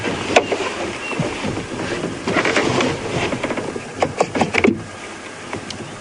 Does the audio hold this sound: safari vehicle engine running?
yes